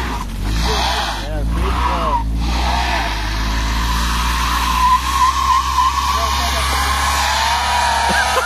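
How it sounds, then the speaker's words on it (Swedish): A car spins its wheels and burns rubber, tires screeching and skidding loudly up close while people talk and shout over it. "Här bränner vi däck!"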